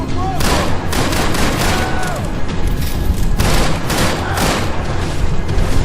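Dense, continuous gunfire in Max Payne 3, rapid overlapping shots and booming bursts filling the whole stretch at loud, steady volume, with a voice talking over the shooting.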